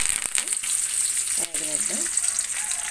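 Curry leaves dropped into hot oil for a tempering before ivy gourd pieces go in, a loud continuous frying sizzle with a brief dip and then a fresh burst of crackling, close up.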